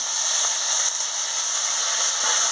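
Whole cumin, ginger paste and chopped tomato sizzle in hot oil in a pan, a steady, close hiss that continues evenly with no voices.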